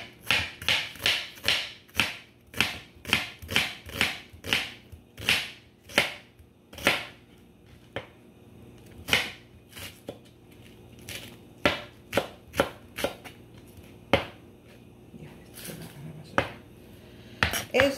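A knife chops food into long strips for peanut soup, sharp taps on a cutting board in quick bursts and spaced strokes, close and clear, with short pauses and no voices.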